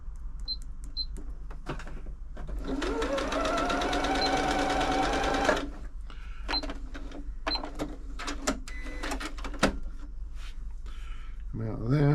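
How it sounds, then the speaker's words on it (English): A Janome Atelier 6 sewing machine runs a straight stitch in one steady, buzzing whir lasting a few seconds. Around it a person talks, with light clicks and handling noises. "We'll go back to mode 1, straight stitch."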